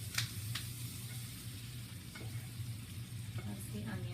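Onions frying in butter in a pan during a simple stir fry, a steady close sizzle and crackle with occasional light utensil taps and a low hum underneath.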